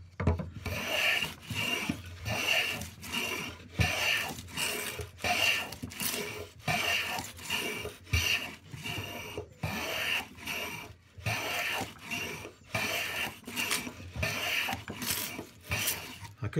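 Repeated rasping strokes of a Record 0311 shoulder plane shaving curly wood at a bench, about a dozen even back-and-forth passes, close and steady, with no talk.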